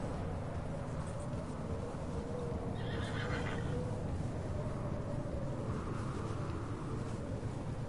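Horses whinny and neigh in the Red Dead Redemption video game, with clip-clopping hooves and a wind-swept snowy backdrop; no one speaks.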